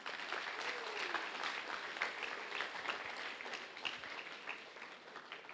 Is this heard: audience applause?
yes